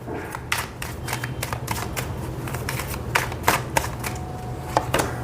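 Tarot cards being shuffled by hand, a steady run of crisp riffling slaps and flicks, close and fairly quiet against a low hum.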